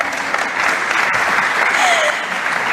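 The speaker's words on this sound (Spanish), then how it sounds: "Me tocaba decir un fuerte aplauso para ellos," A seated audience at a formal tribute ceremony in the Dominican Republic claps in a steady, dense burst of applause that fills the room for a few seconds.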